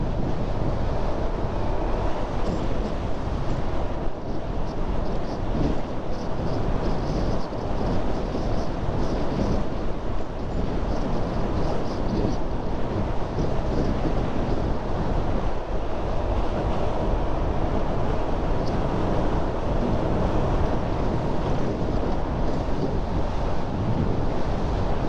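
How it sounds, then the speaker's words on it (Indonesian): Ocean surf on a coastal shoreline, a continuous loud roar of breaking waves mixed with heavy wind buffeting the microphone, with no talk. "pesisir pantai banget ya"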